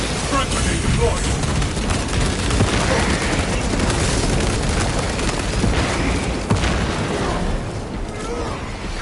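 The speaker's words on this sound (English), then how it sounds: "Front grenade deployed." Grenade explosions and gunfire crash through a Space Marine 2 siege-mode battle: a dense, continuous roar of booms and rapid shots, with game voices calling out over the din.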